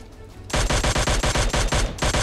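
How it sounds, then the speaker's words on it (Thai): Rapid automatic gunfire in the mobile battle royale game PUBG Mobile, loud close bursts of repeated shots in a fast, fairly even rhythm after a short quieter lead-in. "ได้ยินเสียงปืนนะพี ่ได้ยินปะได้ยินปะ"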